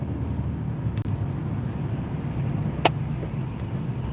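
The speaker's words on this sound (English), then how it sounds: "Bro, it's heavy traffic in here." Heavy road traffic heard from inside a moving car, a constant low engine and tyre rumble with a couple of brief sharp clicks or knocks over the drone.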